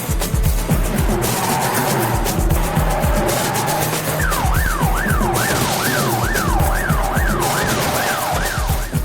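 Car driving and skidding in the PlayStation 2 game The Getaway, set on London roads: engine rumble with repeated tire squeals and skids, joined midway by a rising and falling siren wail, all loud and continuous.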